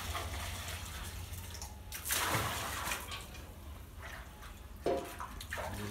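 Water is poured in two quick splashing bursts to bathe dogs, over a quiet background, fairly faint.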